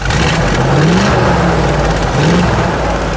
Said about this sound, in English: Give it a bit of a rev.